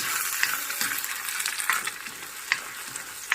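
Two eggs frying in hot oil in a pan while making egg rice, giving a close, steady crackling sizzle with scattered louder pops and stirring scrapes and no talk.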